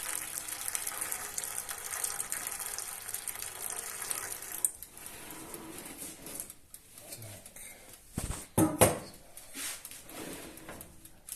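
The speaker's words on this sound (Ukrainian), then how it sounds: "У наше деко виливаємо кип'ячу воду" Boiling water poured into a baking tray for poaching homemade chicken sausage, a brief gushing splash around the middle of the clip, set against quiet kitchen background noise.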